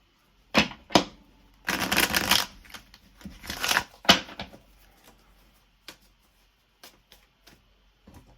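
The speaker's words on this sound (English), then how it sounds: "Okay, I'm gonna have to shuffle again." A tarot deck is shuffled by hand: a couple of sharp card snaps, two longer riffling bursts, then scattered soft taps and clicks as cards settle, close up in a quiet room without speech.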